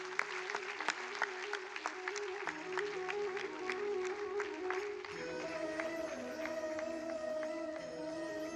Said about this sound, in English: Audience, please give a huge round of applause